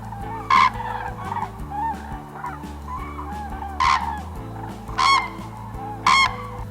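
Loud honking crane calls ring out several times at uneven intervals, trumpeting and close, over a steady musical background.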